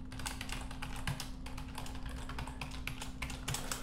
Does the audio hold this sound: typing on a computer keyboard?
yes